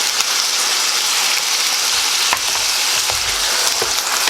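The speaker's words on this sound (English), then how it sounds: "we're going to add in our half a cup of soy sauce in here now" Chicken fried rice sizzles loudly in a hot pan as soy sauce goes in, a steady dense crackle with a few sharper spits and stirring clinks, no voices.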